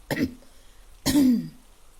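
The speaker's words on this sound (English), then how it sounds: "Amma muffled a cough" Two stifled coughs, the first short and the second longer and throaty, close and subdued.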